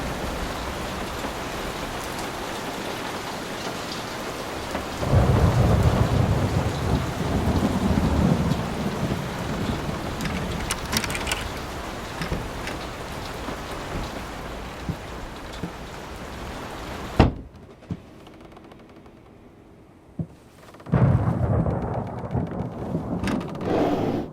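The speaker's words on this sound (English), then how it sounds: "Will this storm ever run out of rain?" A thunderstorm in the horror video game Layers of Fear, with steady heavy rain and rolling thunder swells, then a sudden near-silent gap before the downpour returns.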